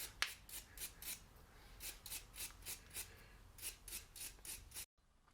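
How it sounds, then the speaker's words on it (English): Wire brush scrubbing rust off a bolt thread during a Peugeot 207 BE4 gearbox overhaul: rhythmic rasping strokes, about a dozen back-and-forth scrubs, close and fairly quiet, with no talking. "I need to go over the thread some more with a wire brush to make sure all of the rust is off"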